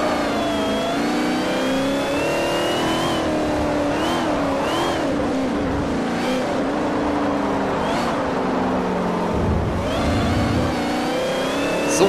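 Saleen S5S race car in Forza 4 accelerating hard, its engine note climbing and dropping through gear changes in a steady, loud, buzzing roar that continues for the whole stretch.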